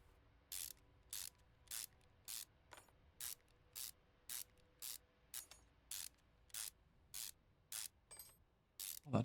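Engine belt removal on a Mayen M5 in Car Mechanic Simulator, a series of about fourteen evenly spaced bursts of a ratcheting wrench, each short and crisp, separated by near silence.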